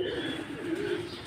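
Pigeons in a rooftop pigeon loft give soft, low cooing calls, close and continuous over a faint background.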